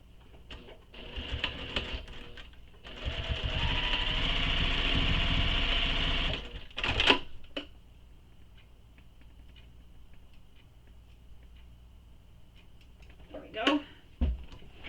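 A domestic sewing machine stitches straight across the seam allowance of a fabric commuter tote bag, a steady whirring run of about three seconds followed by shorter bursts and handling clatter, with a voice speaking nearby.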